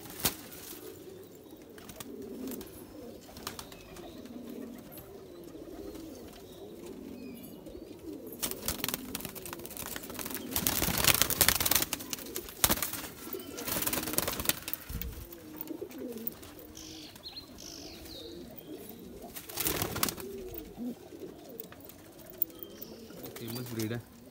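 Kasuri pigeons of a bordered breed cooing repeatedly in a loft, soft low calls continuing throughout, with occasional louder bursts of wing flapping and movement and some background voices.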